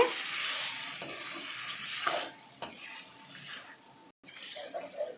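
Chicken curry cooks in oil in a pan over a low flame, giving a soft sizzle with occasional stirring scrapes and clinks that fade and return, quiet and close.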